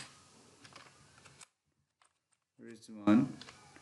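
A run of quick, light keyboard clicks sounds while someone talks, then there is a short silence, and a few louder taps come as he speaks again.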